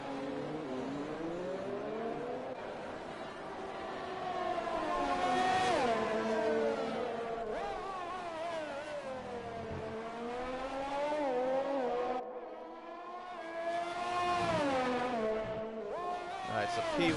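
An F1 car in the F1 2020 game laps the Vietnam circuit at night, its high engine whine rising and falling through gear changes and corners, continuous and loud under a commentator's voice.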